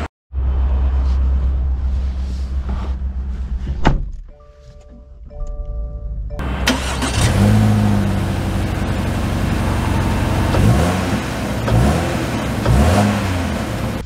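A 2024 Subaru Crosstrek: steady engine hum, then a door thunk, a brief quieter pause, an engine start and a loud close rumble with repeated revving as the car pulls away.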